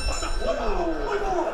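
Boxing match bell ringing at a live fight event: a sustained metallic ringing under a noisy crowd, with voices shouting over it.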